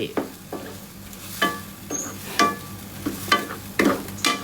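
Curry with offal being stir-fried in a pan, a constant sizzle with rhythmic scraping strokes of a spatula every half second or so, close and fairly loud.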